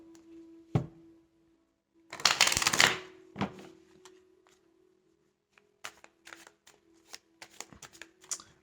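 Tarot cards being shuffled before a cross-spread reading: a dense riffling burst, then a softer flurry, followed by a run of quick, light card taps and flicks, close and quiet with no talking.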